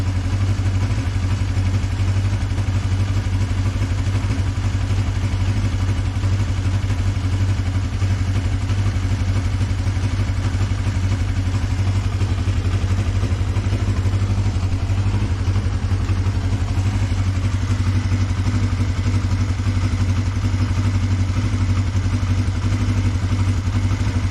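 A pre-war Riley Brooklands engine runs steadily on half choke, a constant close mechanical drone with light clatter throughout and no talk.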